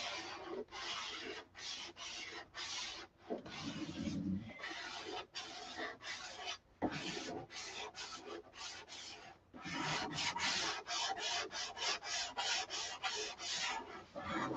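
Close, steady sanding of a scale model Viper: rhythmic rasping strokes repeat in quick bursts separated by brief pauses, continuing throughout without talk.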